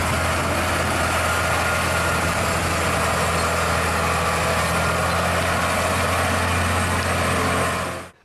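A trailer truck's engine idles steadily for about eight seconds, a deep constant rumble with low harmonic hum, loud and close, then cuts off abruptly at the end.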